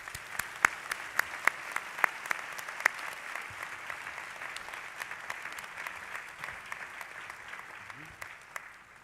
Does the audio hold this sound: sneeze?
no